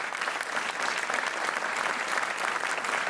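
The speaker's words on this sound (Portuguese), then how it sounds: "Um aplauso para o Diogo." A game show studio audience applauds a contestant named Diogo: even, continuous clapping from a sizeable crowd, moderately soft and steady throughout with no speech over it.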